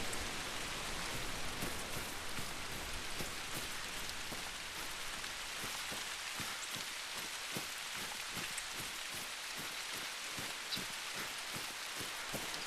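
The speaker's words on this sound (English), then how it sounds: "I wish this rain would go away too" Steady rain falling in the hunting game theHunter Call of the Wild, a dense continuous hiss of drops on foliage and ground with no talk, constant and enveloping throughout.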